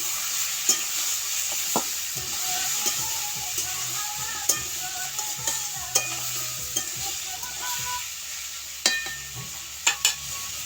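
Turmeric is stirred into food frying in a pan: a steady close sizzle runs throughout, punctuated by sharp, scattered clinks and scrapes of a spoon against the metal.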